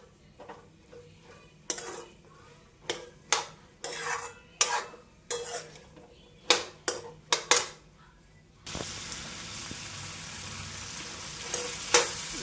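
Dry chickpea curry being stirred in a frying pan, a spoon scraping and tapping the pan in repeated sharp strokes over a steady sizzle, then a louder continuous frying hiss near the end.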